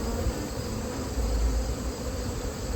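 Honeybees in an open hive colony infested with varroa mites and treated with ApiVar make a dense, steady buzz throughout, close and continuous, with no speech.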